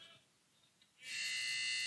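Basketball game buzzer in a men's college matchup sounding suddenly and loudly after a quiet moment, a sustained harsh electronic tone that holds to the end.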